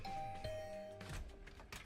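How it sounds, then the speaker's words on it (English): Doorbell rung at a room door in the video game The Hundred Line, a clear two-tone ding-dong chime ringing once and fading over game background music. "I rang the bell by the side of the door."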